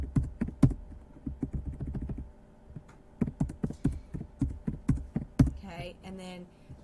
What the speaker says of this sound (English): And then we type our values in.